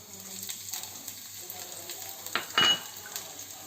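Chopped garlic and chili fry in oil in a pan for a potol chop filling, a steady low sizzle with soft stirring scrapes and one louder clatter of utensil near the end.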